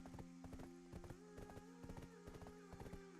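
Rapid rhythmic clip-clop of horse hooves in the video game Black Desert, quick steady galloping beats over a low hum of game ambience, fairly quiet.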